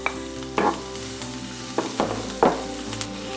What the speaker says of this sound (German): Wieder ein Schuss Öl in die heiße Pfanne. Wenig 5 Gewürzpulver mit Lauchzwiebeln und Ingwer einschwitzen.